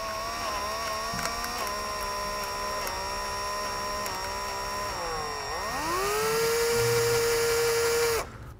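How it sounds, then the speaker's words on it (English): A step drill bit grinds steadily through plastic during a trailer brake controller install on a 2023 Ford, a continuous whining drone that dips in pitch, then settles into a steadier tone before cutting off. "this plastic is biting a little too hard on a standard drill bit, so we'll use a stepper bit"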